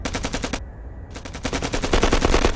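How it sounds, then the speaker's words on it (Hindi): Close-range automatic gunfire in a war film battle scene at a bunker: loud, rapid bursts of shots in fast rhythm, broken by one brief pause before a long continuous volley. "ये तो फायरिंग बहुत नजदीक से हो रही है"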